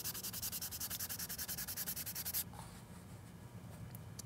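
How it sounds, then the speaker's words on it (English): Sandpaper scrubs paint off a 3D-printed lightsaber part in fast, even back-and-forth strokes, close and steady, then stops, leaving quiet room noise. "So I'm gonna sand a bunch of this away"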